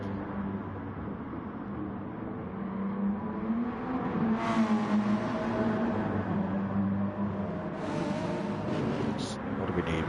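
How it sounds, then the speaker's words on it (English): A steady turbocharged racing car engine in Gran Turismo at the Nürburgring GP circuit drones and rises as it accelerates, with a sharp turbo whistle near the end and a faint hum underneath. "let's go and have a listen to that turbo, shall we, Chrissy?"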